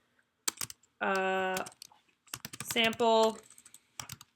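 Crisp keystrokes on a computer keyboard tap in short groups while a person talks in between and over them.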